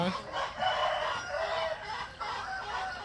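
Roosters crow on a chicken breeding farm, several loud drawn-out calls overlapping one another with clucking and farmyard noise in between.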